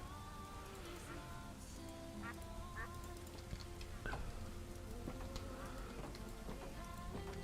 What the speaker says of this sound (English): Oh, hey, we should feed the duckies.